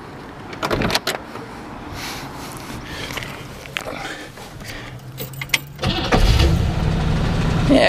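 A 1957 Cadillac Coupe DeVille with a 365 cubic inch engine: after soft clicks and rustling, the starter cranks and the big engine catches near the six-second mark, settling into a loud, steady idle close by.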